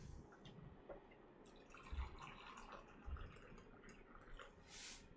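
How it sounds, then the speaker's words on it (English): Tea poured into a cup makes a faint, thin trickle with scattered drips, heard quietly at a distance against a low background hum. "you can now like hear me pouring tea"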